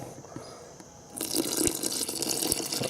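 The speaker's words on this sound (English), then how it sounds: "So now I'm going to pour my water in there" Warm water pours from a honey jar into a dry concrete countertop mix, starting quietly and then becoming a steady, close splashing stream that runs to the end.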